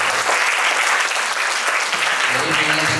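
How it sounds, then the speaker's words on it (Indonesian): A crowd of students claps in applause at a school talk, a dense, loud, continuous wash of hands over about three seconds with a voice speaking faintly underneath. "Tepuk tangan."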